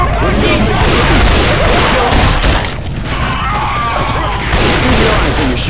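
Sustained, loud gunfire fills a Left 4 Dead 2 match: dense overlapping shots and bursts run almost continuously, with a brief dip in intensity midway before the shooting picks back up.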